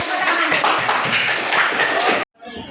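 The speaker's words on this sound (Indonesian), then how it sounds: "semuanya tepuk tangan" A classroom group claps hands in applause, dense rapid claps sustained for about two seconds and then stopping abruptly, with a quieter tail of sound after.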